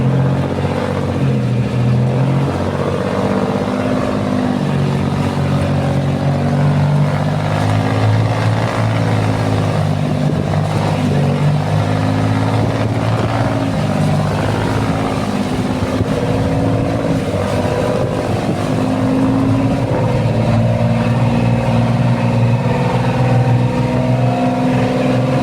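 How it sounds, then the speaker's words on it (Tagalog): A fishing boat's engine runs loud and close as a constant droning rumble with a steady, even tone, lasting the whole stretch without pauses or speech. "kapandar na po yung makina"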